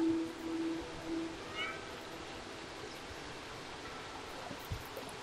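Cat meows in Stray, a few short tonal calls early on over a steady wash of flowing water, with a faint soft thump near the end.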